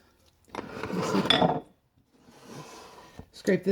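Soap batter scraped from a bowl into a loaf mold, two short bursts of scraping and clinking against the bowl, close and fairly quiet, separated by a brief silence.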